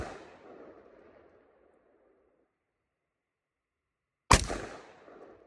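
A single loud M16 rifle shot firing 5.56 ammunition cracks sharply near the end at an outdoor range, following a fading stretch of earlier noise and a quiet gap.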